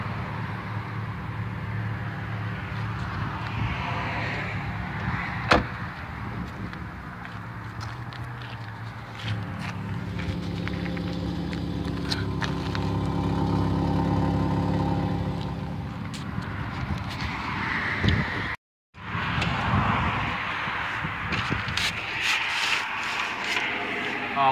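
A 2007 Toyota Yaris engine idles steadily at close range, a smooth low hum running continuously beneath a voice, with a brief dropout near the end.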